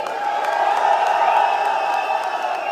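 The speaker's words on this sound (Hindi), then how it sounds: "चलिए तालियों के साथ एक बार शोर भी बजा देते हैं।" A large live audience claps and cheers loudly at a wellness company event, a steady dense roar of applause, whoops and crowd noise sustained throughout without a break.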